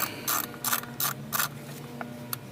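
A ratchet fitted with an 8 mm socket loosening a coil bolt on a Land Rover LR3 engine, four quick bursts of clicking pawl followed by a single faint click and a last short click, close and alone.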